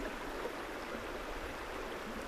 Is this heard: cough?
no